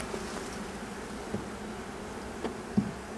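Honey bees at a village apiary, a soft continuous buzzing hum with a few louder passes as single bees fly close, low and steady throughout, with no voices.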